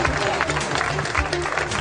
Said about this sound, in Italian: Ho visto che voi ci fate questo applauso